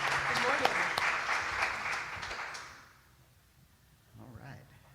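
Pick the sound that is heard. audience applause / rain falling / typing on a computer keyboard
audience applause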